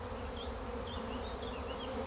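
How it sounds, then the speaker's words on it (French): A dense, steady hum of many honeybees around a swarming hive, buzzing continuously and close, with single bees whining briefly above the drone. "Avec la balayette, gentiment, je balaye les abeilles"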